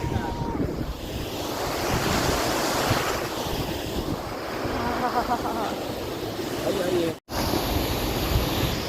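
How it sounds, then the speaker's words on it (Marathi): Monsoon water rushing down at Phonda Ghat, a loud continuous roar with heavy wind buffeting the microphone, steady throughout apart from one brief cut near the end. "पाण्याचा आवाजच एवढं आहे ना खूप"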